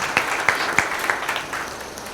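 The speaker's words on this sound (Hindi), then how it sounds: "आज ये आप भिवानी वालों के लिए फिर ताली बजाए" Scattered, light audience applause at an annual general meeting: a handful of distinct claps over a soft background patter that thins out toward the end.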